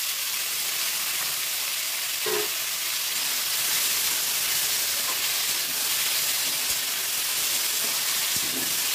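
Boiled eggplant fries in oil with neem leaves, giving a steady broadband sizzle and hiss that stays even throughout, with a few faint knocks of stirring and no voices.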